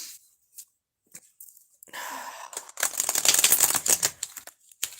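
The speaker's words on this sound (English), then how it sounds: "Let's give this 5 shuffles." Tarot cards being shuffled by hand give quick papery riffles and flutters, starting with sparse soft taps and building into a dense, crisp burst of card snaps close to the listener.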